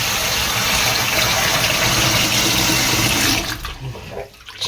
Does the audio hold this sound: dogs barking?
no